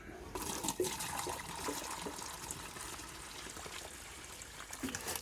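Liquid comfrey feed diluted with rainwater pours and trickles into garden feeding stations, a faint, continuous splashing with a few small gurgles and no talking.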